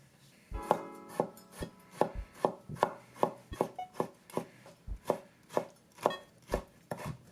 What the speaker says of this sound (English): And we're also going to mince up a tomato.